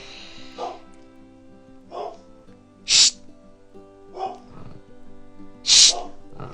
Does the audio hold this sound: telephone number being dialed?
no